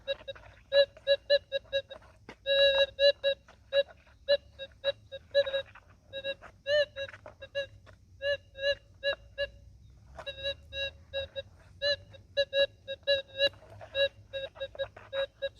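Metal detector on manual 10 setting sweeping over the ground, giving a choppy stream of short high-pitched chirps and beeps in irregular bursts, fairly faint, with no talking.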